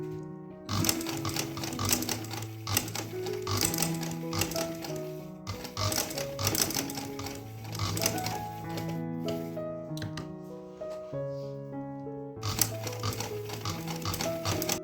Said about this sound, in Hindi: मैंने मशीन की सिलाई लगा ली है